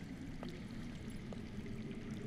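Underground water flows with a dull, constant pouring rush in a Game of Thrones video game. It stays quiet and even, with no talking over it.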